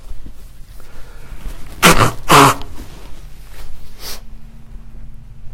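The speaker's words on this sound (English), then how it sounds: "I have to sneeze." A person sneezes indoors, a sharp double burst close to the microphone in the middle of the stretch, with a quieter breathy sound just after and otherwise near silence.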